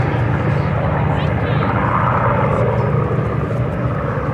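Spitfire warbirds fly at the Sywell airshow in 2024, producing a steady, broad engine roar that stays loud and even throughout, heard under a commentator's continuous voice.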